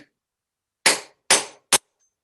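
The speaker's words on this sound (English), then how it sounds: "I'm now going to use my flat sheet and hammer down again" Three sharp metallic hammer strikes on flat sheet metal in a doming block, close and loud, the first two evenly spaced and the third quicker and shorter, with silence between.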